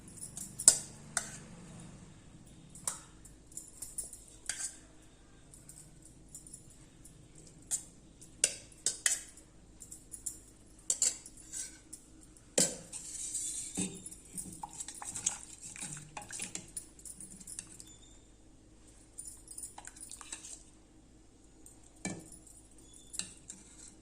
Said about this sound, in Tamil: டிஃபன் பாக்ஸ் ஃபில் பண்ணிடலாம். சாதம் வச்சு சாம்பார் ஊற்றிடலாம்.